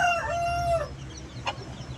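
A native rooster of about 2.5 kg at a rooster market in Vijayawada crows once, a long harmonic call in the first second, followed by quieter background noise and a brief faint cluck.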